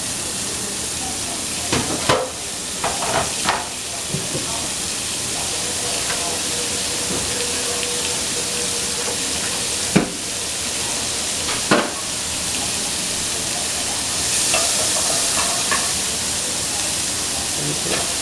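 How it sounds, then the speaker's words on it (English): Onion, celery and garlic frying in a pot, a steady sizzling hiss running throughout with occasional sharper clicks and stirring knocks, fairly close. "Fry it up a little for about 2 minutes."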